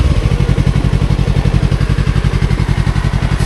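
A Yamaha R3 twin-cylinder sport bike engine pulls hard during an acceleration run, loud and close, with a fast, even throbbing exhaust beat that holds steady across the whole stretch.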